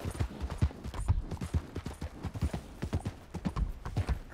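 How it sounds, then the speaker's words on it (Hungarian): Horse hooves clop in a steady walking rhythm in the video game Red Dead Redemption 2, quiet and close, with a soft snorting breath and no talk. "szerintem csak a lovat hallottuk fújtatni éppen"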